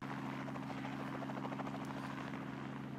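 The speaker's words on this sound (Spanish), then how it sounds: "Puto helicóptero." A helicopter drones steadily overhead, a continuous loud rotor buzz with no voices.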